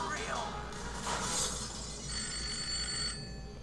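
A telephone rings in the Spider-Man 2 video game, a short bright electronic trill rising over a background of game noise and a brief crash, with a voice speaking underneath.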